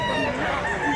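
A rooster, a handsome fighting-cock type offered for sale at a market in Mantalungon, Cebu, crows loudly and close in one sustained call.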